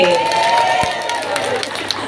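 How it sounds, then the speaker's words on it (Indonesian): A crowd at a lively Islamic religious gathering claps and cheers for team B, a dense, steady wash of applause mixed with voices throughout. "Tepuk tangan untuk regu B."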